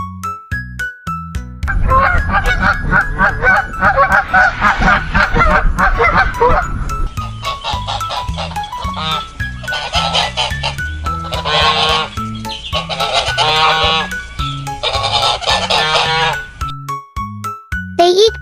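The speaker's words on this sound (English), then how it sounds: "they are famous for their honking call during migrations" Canada geese in a wetland give loud, repeated honking calls, a flock calling back and forth in overlapping bursts that continue steadily throughout with little pause.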